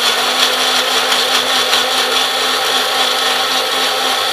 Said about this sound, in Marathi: आता हे आपण मिक्सरला ब्लेंड करून घेऊयात.